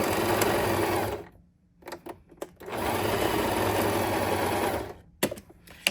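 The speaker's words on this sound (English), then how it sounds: "I'm running a zigzag stitch." A sewing machine stitching a zigzag stitch on a belly band with Grafix DuraBright, running fast in two long loud bursts separated by a pause with a few short stops and starts.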